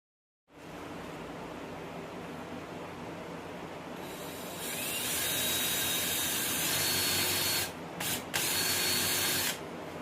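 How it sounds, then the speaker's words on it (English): A 1/4 inch Forstner bit bores into wood for a jewelry box as a steady, close drill whine that builds partway through. It cuts out twice briefly near the end. "we're going to use a 1/4 inch Foster bit or drill bit, brad point, something like that, and we're going to drill out in this section here"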